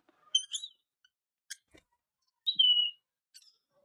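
Sparse, high-pitched chirps from baby Indian ringneck parrots and a short whistled call ring out over near silence, with a few faint clicks between them, at a parrot farm in Dhaka.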